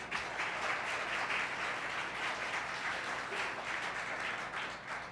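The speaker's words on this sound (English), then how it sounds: "Give them a round of applause." Applause from a room audience at a panel discussion on school segregation in Texas, a dense, steady wash of many hands clapping that holds at an even level for several seconds.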